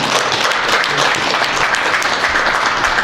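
A seminar audience of a commemorative academic society applauds to welcome a professor chairing the second session, a loud, dense, continuous burst of many hands clapping together, steady throughout without speech over it.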